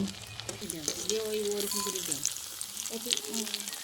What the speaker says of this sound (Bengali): উনুনের আঁচটি আস্তে রেখে ভেজে নেব